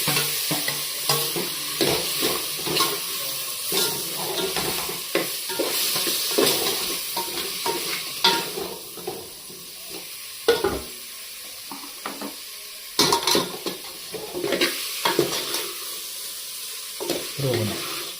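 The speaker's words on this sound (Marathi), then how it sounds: "बस त्याला मस्त आपण रोस्ट करू" Chicken roasting and being stirred in a hot pan: steady sizzling with repeated scraping strokes of a spoon against the pan, fairly close and moderate in volume, with a few sharper clinks.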